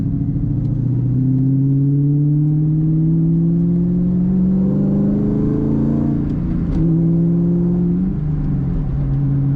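A 2000 Ford SVT Mustang Cobra R, all red with a black interior and a rear wing, accelerating on the road: a loud, close engine whose pitch climbs steadily through gears, with a brief dip before rising again.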